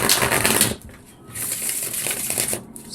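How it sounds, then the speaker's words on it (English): Crisp papery riffling and card slaps of tarot cards being shuffled, close by, in two bursts separated by a brief lull; no voices. "Let's give these a good shuffle"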